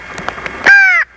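A human voice imitates a crow's three-note come-here call: a few short, soft caws followed by one loud, drawn-out caw, close and clear with no other sound.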